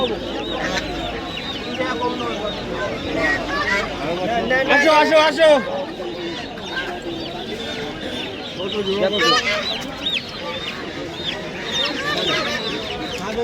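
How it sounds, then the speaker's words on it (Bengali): Native chickens cluck and squawk repeatedly at a poultry market amid a busy crowd, several people talking and calling out nearby over the steady flock noise. "এই হচ্ছে দেশি মুরগির হাট"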